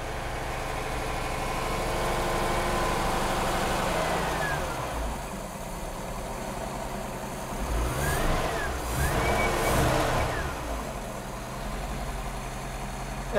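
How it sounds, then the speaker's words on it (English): GM 5.7L engine in an OMC Cobra boat idling while being winterized, a steady low rumble throughout with slight swells in level and some faint high whines, no talk. "spray this fogging oil into the carburetor until the engine kills itself"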